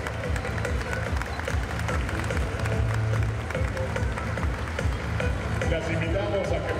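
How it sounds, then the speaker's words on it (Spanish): An audience applauds after a singing contest at the 2022 Juegos Bancarios, with moderate clapping and crowd murmur under a presenter's voice. "Y las despedimos con un fuerte aplauso."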